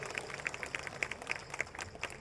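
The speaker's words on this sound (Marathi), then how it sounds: "सगळ्यांनी टाळ्या वाजवून त्यांना शुभेच्छा द्याव्यात" Audience clapping at an election campaign launch rally in Akluj, a brief burst of scattered, fairly faint applause with sharp individual claps.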